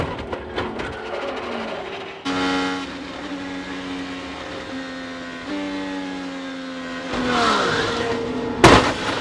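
A 2023 IndyCar spins out and barrel rolls in a crash: high engine whine shifting pitch, then screeching tire squeal, a loud sudden impact near the end and scraping after it.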